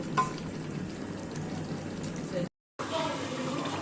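Beef sautéing in a pot for a Bengali beef and potato curry, a steady sizzle and frying hiss with stirring, broken by a brief silence before the sizzling resumes.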